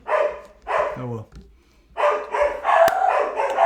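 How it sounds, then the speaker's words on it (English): Several dogs barking in bursts close by, with a high yip between barks, the barking intermittent then building into a louder overlapping stretch, heard indoors during a podcast recording. "Hey, why don't y'all just keep barking?"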